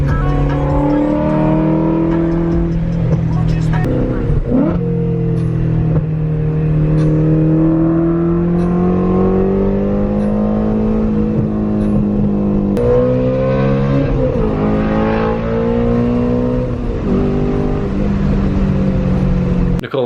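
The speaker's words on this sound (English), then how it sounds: "I love how this thing sounds on E85. Makes all the good popping noises." Nissan S15 with a stroker 2JZ engine running on E85 revs hard and continuously, its loud rising and falling engine note broken by crisp exhaust pops and crackles, close by and with no voices over it.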